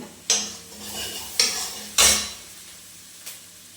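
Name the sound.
tempering (tadka) sizzling in mustard oil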